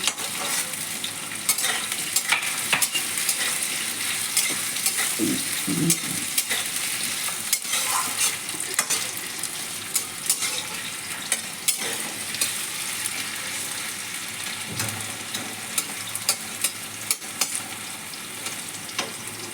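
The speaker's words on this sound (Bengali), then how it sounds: "এইভাবে আলুটা লাল লাল করে সামান্য একটু ভাজতে হবে, বেশি না।" New potatoes fry in a pan until lightly browned, a steady close sizzle with occasional stirring scrapes and clicks running unbroken, with no talking.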